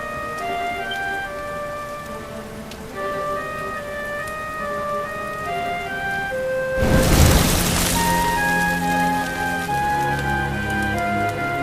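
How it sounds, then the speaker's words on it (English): Rain in the video game Dragon Quest XI: a steady hiss of falling rain runs beneath sustained game music, swelling into a loud, crashing burst of noise midway before settling back. "Looks like the rain's dying down."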